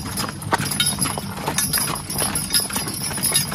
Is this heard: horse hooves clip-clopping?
yes